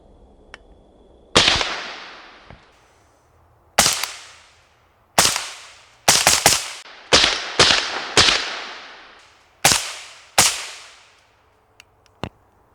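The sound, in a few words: suppressed 5.56 rifle shots with titanium suppressor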